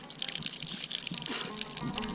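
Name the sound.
water flowing from a tap at a railway station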